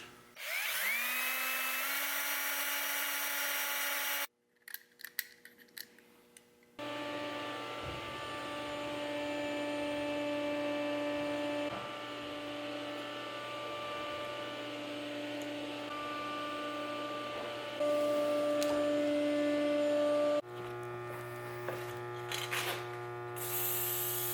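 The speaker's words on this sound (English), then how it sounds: "I need to drill a hole through here" A small electric drill boring a small hole in wood, whirring at high speed, starting and stopping in bursts, with a pitch that shifts as it bites and a steady hum beneath.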